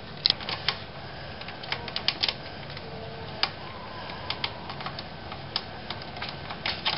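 Retaining bolts on a Scott Bonnar model 45 soleplate are worked loose from the side frame, giving sparse, sharp metallic clicks and ticks at irregular intervals over a steady low background, with no talking.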